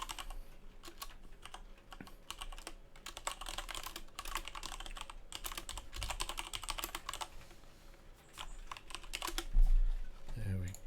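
Loud typing on a computer keyboard rattles on in dense, uneven runs of keystrokes with short pauses, and a voice cuts in briefly near the end.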